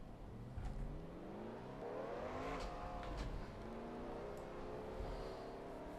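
Stock car engines in the video game NASCAR Racing 2003 during a 1990 Busch Series race at South Boston, a steady roaring drone with overlapping rising and falling engine pitches as cars pass nearby, fairly quiet and continuous.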